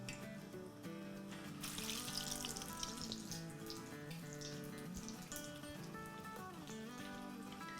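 Potato keema kebabs shallow-fry in a pan of oil with a faint, steady crackle and sizzle, low in level and continuous throughout.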